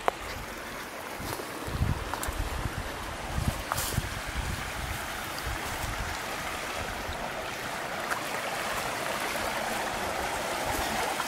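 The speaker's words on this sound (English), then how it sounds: "Beautiful little stretch along this brook." Clear brook water runs steadily over tiny cascades along a wooded trail, a continuous nearby rushing wash with light wind buffeting the microphone and no talk.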